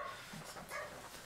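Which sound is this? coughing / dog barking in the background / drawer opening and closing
dog barking in the background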